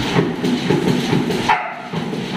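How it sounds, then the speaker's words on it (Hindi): Dogs at a dog hostel in Jodhpur, one barking while another plays with it, give a run of close, fairly loud barks that keep going through the whole short stretch. "ये भौंक रही है"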